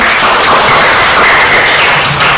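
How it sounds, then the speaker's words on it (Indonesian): A classroom group of students claps for the multiplication group, a dense, loud burst of applause sustained for about two seconds. "tepuk tangan untuk kelompok perkalian"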